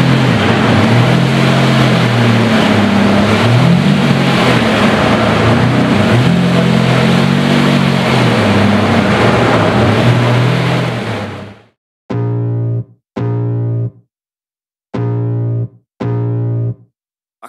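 A Lamborghini supercar engine roars loudly and continuously for about eleven seconds, then cuts off and fires four sharp, separate revving bursts with gaps of silence between them.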